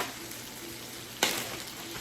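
Bacon sizzles in a breakfast skillet with a soft, steady crackle, punctuated by one brief louder scrape or stir partway through.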